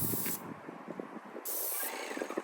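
Paint sprayer hissing as camper cabinet doors are sprayed: two close, steady bursts of airy spray with a short pause between them.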